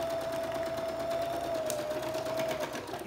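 A sewing machine stitches lace onto water-soluble stabilizer, giving off a steady, close mechanical whirring with a faint high tone running through it, uninterrupted and without talk.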